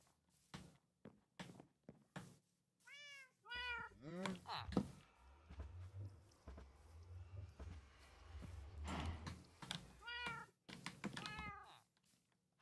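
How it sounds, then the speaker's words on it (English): Video game cats meow repeatedly, in short bursts of several rising-and-falling cries at a time. Knocks, clicks and a low rumble run between and beneath them. "I think those are the only two cats in this village."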